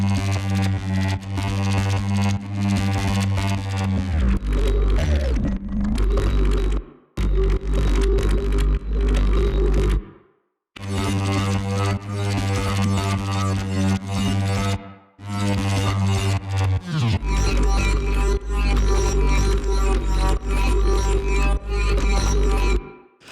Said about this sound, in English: we have all these different bass layers that are playing the same note and the same pattern